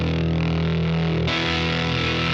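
An electric guitar plays a bluesy lick through a fuzz pedal, thick and heavily distorted, with a sustained chord that shifts abruptly into new ringing notes, loud and alone.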